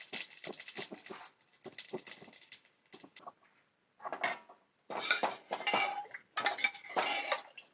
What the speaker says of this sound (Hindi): महाराज जी ने कढ़ाई सटा दी है, छोकन लगाएंगे